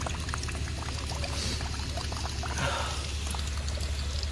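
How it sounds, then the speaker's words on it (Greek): A water tap runs steadily in a deserted playground, a continuous close splashing flow with no voices, holding an even level throughout. "Μέχρι και η βρύση τρέχει."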